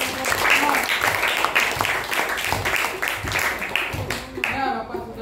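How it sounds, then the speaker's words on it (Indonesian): A class of schoolchildren claps for a student group in a classroom, a dense patter of many hands going on throughout, with voices mixed in among the clapping. "beri tepuk tangan untuk kelompok 3"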